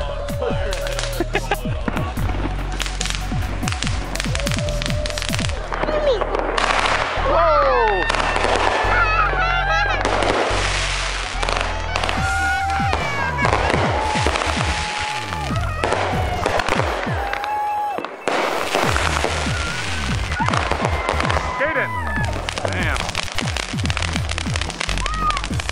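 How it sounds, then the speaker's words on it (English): Loud fireworks bang and crackle repeatedly over about twenty-five seconds, with whistling streaks and bursts layered together, while people talk and exclaim nearby. "You like the firework?"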